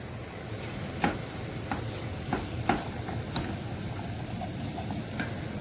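Whisk stirring two spoonfuls of white flour into melted butter in a pan, producing a steady soft sizzle with several light scraping strokes against the pan and no speech.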